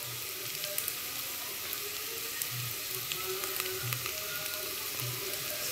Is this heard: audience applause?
no